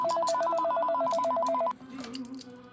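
A telephone rings loudly with a rapid, steady electronic trill that repeats without a break for well over a second, then cuts off abruptly, leaving faint background sound.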